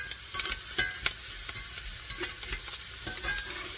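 Garlic sizzles in a hot skillet, with a steady, gentle frying hiss broken by repeated scrapes and clicks of stirring, close up and with no one talking.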